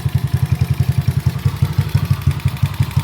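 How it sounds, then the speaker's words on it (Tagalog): Motorcycle engine idling with an open flat slide carburetor and no air cleaner, giving a steady, close, rapid pulsing beat with a light ticking clatter and no talking. "paano mo malalaman kung yung carb ba yung lagitik ng iyong motor?"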